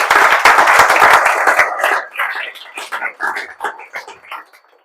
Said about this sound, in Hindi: तो उसके लिए भी ताली बजा दीजिए आपने